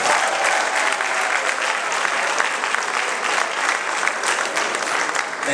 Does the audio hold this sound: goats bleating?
no